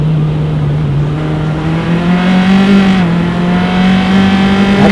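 A Formula X race car comes onto the front straightaway during an SCCA club sprint race at Mid-Ohio, its engine a loud, sustained drone that holds near-steady pitch with a slight rise and dip.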